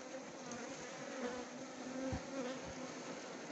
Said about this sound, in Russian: Вот как пчела берет.